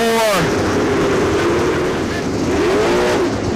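Sprint race car at a dirt bullring oval sliding sideways through turns three and four, loud steady engine roar under a race announcer's commentary, the pitch dipping and swelling as the car slides.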